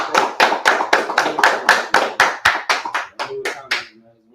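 Hand claps at a gathering in Washington, DC: about a dozen loud, close, evenly spaced claps at roughly three per second, slowing slightly and fading out at the end.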